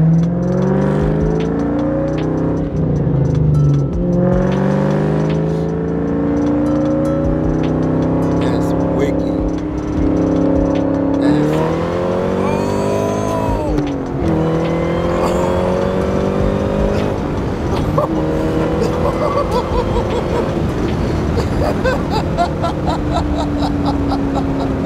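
A loud Terminator Cobra Mustang engine rumbles and revs nearby in a continuous throaty roar, with pitch sweeps rising and falling as the throttle is blipped, while people talk over it.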